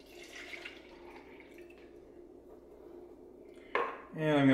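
Water runs from a kitchen sink tap into a tin can until it is about half full. A quiet stretch ends in a sudden gush, and the tone rises as the can fills.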